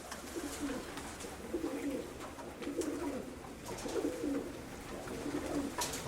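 Pigeons cooing in a coop, repeatedly in soft, low rolling phrases, close by, over a steady background hum with a few faint higher chirps.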